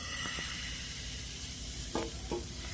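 Milk patishapta pitha batter is spread in a hot pan over medium gas, producing a soft continuous sizzle with a couple of brief scraping sounds from a ladle near the end.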